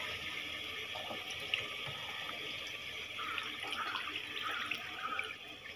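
Tap water running into a kitchen sink while washing up, a continuous faint splashing stream heard close and alone, with small shifts as hands move under it.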